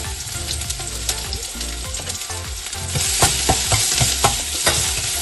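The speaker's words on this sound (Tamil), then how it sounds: "நெய் சூட ஊறிட்டு கொட்டி வச்ச வெங்காயத்தை போடுவோம்" Onions tossed into hot ghee sizzle loudly and continuously in a pan for beetroot varai, with stirring clatter that grows busier partway through; no voices.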